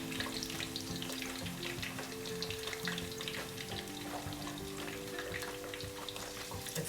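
Battered food, gluten-free and regular, deep-fries in a fryer basket with a continuous crackling bubble and sizzle, moderately quiet, with steady musical tones running underneath.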